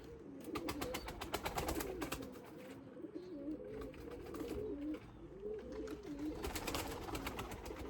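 Pigeons coo in a loft of breeding Limoni pigeons, repeated soft rolling coos close by, overlapping with a flutter of chirps and faint background noise.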